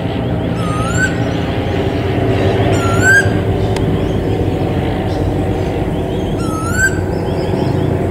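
A common koel, a large bird with bright red eyes perched high in a tree, gives three rising whistled calls spaced a few seconds apart, clear but somewhat distant over a steady broad background rumble.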